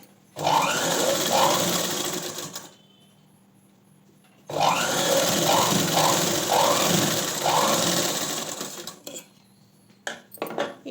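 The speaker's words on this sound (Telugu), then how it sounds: "తర్వాత ఈ హ్యాండ్ని ఇలా తిప్పుకొని ఇలా టాప్ స్టిచ్ వేసుకోండి" Sewing machine top-stitching a blouse sleeve joint, running in two long close bursts of steady whirring stitches separated by a pause, with short clicks and handling sounds at the end.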